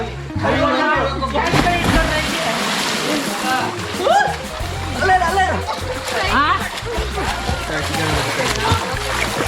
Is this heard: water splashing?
yes